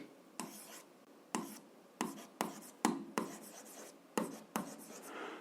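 A pen or chalk writes out an algebra solution in bursts of scratchy strokes, about nine short sharp scribbles spaced apart in a quiet room.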